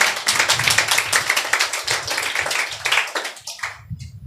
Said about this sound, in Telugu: చప్పట్లు కొట్టి ప్రభుని ఘనపరతం గాక